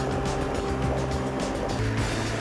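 A Palfinger Crayler FLG air-transportable forklift's 25.3 kW diesel engine runs at a steady loud idle, a continuous throbbing drone with a constant low hum and no variation.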